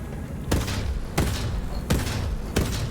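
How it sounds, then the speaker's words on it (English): Shotgun firing at a shooting range in the video game Borderlands 3, four loud booming blasts spaced slowly about two-thirds of a second apart, each with a short tail. "It does fire rather slow, but it is a shotgun"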